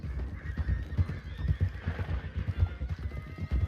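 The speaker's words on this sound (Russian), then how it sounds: "Вот лошадки, да, пасутся." Horses grazing in the game Red Dead Redemption 2 whinny while hooves clop in an uneven rhythm nearby, fairly quiet and alone without talk.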